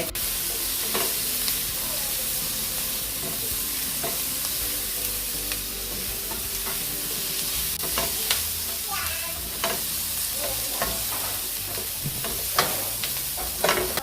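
Ginger and garlic fry in a stir-fry pan for chicken and vegetable noodles, giving a steady close sizzle broken by sharp scraping and clinking stirs throughout.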